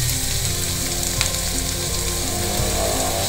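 One large onion, finely chopped, sautéing with turmeric and curry leaves in a pan: a loud, dense, continuous sizzle with no pauses, close up and with no talking.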